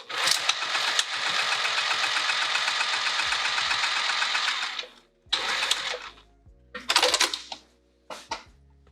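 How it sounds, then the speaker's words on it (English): A sewing machine top stitching a fabric pouch, running in a steady continuous whir for about five seconds, then stopping and restarting in two shorter bursts with brief pauses between. "top stitch on the blue first, and then top stitch the wing"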